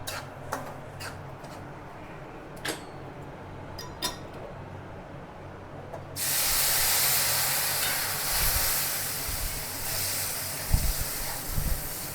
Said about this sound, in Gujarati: હવે કલર ચેન્જ થઈ ગયો છે એટલે હવે આપણે ગરમ પાણી રેડીશું